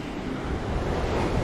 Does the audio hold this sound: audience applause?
no